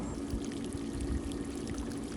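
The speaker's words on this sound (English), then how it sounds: "And so I'm going to do my first backwash operation to clean the filter media." Backwash water from an Intex pool sand filter pours out steadily in a continuous rushing stream, close and fairly constant throughout.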